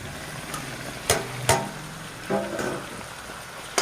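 Tomatoes frying in a pan with cooked eggplant for a village-style eggplant curry, giving a steady low sizzle punctuated by a few sharp scraping knocks of a spoon against the pan.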